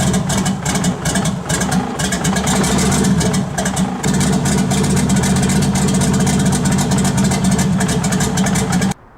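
A turbocharged BMW E46 engine idling with open crankcase ventilation and a turbo drain line, a steady low rumble with a busy mechanical clatter on top that holds at an even level throughout before cutting off at the end.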